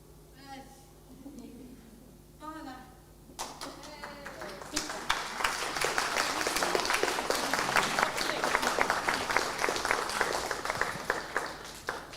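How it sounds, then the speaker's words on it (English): Audience applause for an award winner at a learning disabilities and autism leaders' awards ceremony; a voice speaks first, then clapping erupts and builds into loud, dense applause from a large crowd that carries on for several seconds. "Can we have much applause, please, for Alice and all that she's accomplished?"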